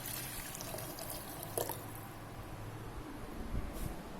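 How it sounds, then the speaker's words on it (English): Water is poured into a pot of kokum saar, a steady soft trickle and splash heard quietly and close throughout with no talking. "I'm topping up the saar with water."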